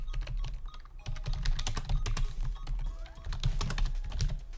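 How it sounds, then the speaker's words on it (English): Fingers type on a Compaq laptop keyboard running Office 2010, a close, busy patter of key clicks in quick irregular bursts with no pauses for speech. "I can type something."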